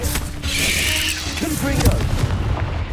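Incendio fire spell cast in Hogwarts Legacy: a loud, dense whoosh of flame with heavy booming thuds and mechanical clatter packed into a few seconds.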